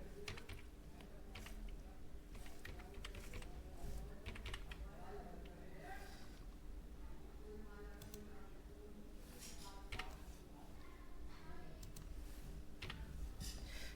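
Someone types an Aadhaar number on a computer keyboard, with quick, irregular key taps close by and soft room noise beneath.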